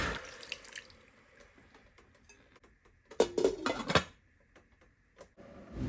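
Water drips and splashes as a little is added to a pot of ogbono soup with chicken, a few quiet drips followed by a brief louder pour and splash, then near silence with faint clinks.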